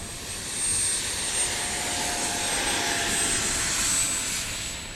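An FMS Rafale 80mm electric ducted-fan RC jet taking off, a steady high-pitched whine that swells and holds, loud and close, with a thin whistling tone on top.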